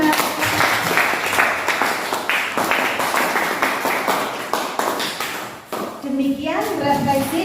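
Children in a classroom clap together in a dense, continuous burst of applause lasting several seconds, loud and close, with kids' voices mixed in and the clapping thinning out toward the end.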